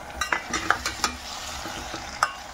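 Potatoes are added to peas and onion frying in a pan for aloo matar samosa filling, with a steady close sizzle under several scraping stirs of a spoon against the pan.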